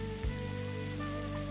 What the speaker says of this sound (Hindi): इस जल कुंड के चारों तरफ इतने फव्वारे लगे हैं कि इनके शुरू होने पर लगता है जैसे बरसात हो रही हो